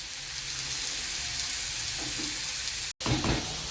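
Chicken for pastilla fries in a pan with a steady, close hiss of oil crackling and spitting, continuous and fairly loud, broken by a brief cut before the sizzle resumes with some clinking.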